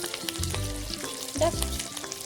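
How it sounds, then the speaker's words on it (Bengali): Sautéed onions sizzle steadily in a pan for a Bengali prawn malai curry as turmeric powder is added, the frying hiss broken by a few stirring scrapes and clinks, with no talking. "পেঁয়াজ কষানো হয়ে গেছে। এবার আমি দিয়ে দিচ্ছি হলুদ গুঁড়ো।"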